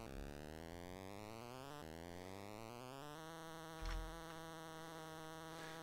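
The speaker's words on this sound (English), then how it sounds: "Fancy hardware to make mosquito sounds" Emulated arcade game hardware produces a mosquito-like electronic buzz, a continuous whining drone with pitch that steps upward in stages, steady and unbroken, with a soft thump partway through.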